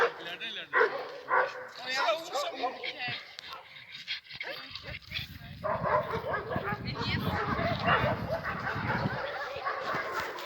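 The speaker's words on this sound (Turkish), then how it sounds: "Sokak köpekleriyle sahipli köpeklerin rekabeti." Several street dogs and owned dogs bark, yip and snarl in a scuffle at a dog park, loud and close, with people talking excitedly over the commotion.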